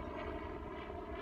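A helicopter drones steadily somewhere overhead, a low continuous rumble of rotor and engine, fairly faint and unbroken, with no talking.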